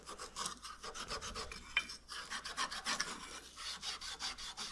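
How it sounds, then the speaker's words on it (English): A metal nose rib being scuffed with a Scotch-Brite pad, a rapid rhythmic back-and-forth rasping rub, fairly quiet and close with no talking. "it's good for scuffing up the what once was shiny bright will be dull now after this"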